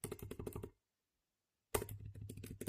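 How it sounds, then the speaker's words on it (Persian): Typing on a computer keyboard while entering an email address in Microsoft Word: rapid, close key clicks in two bursts, separated by about a second of silence. "مثلا در اینجا تایپ میکنیم"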